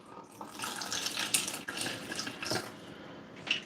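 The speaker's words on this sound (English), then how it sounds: "Benefits of having a sink in the snake room is I can fill my water jug as much as I need to." A sink tap runs steadily in a snake room, filling a water jug, with a continuous close rush of water that shifts in tone as the jug fills.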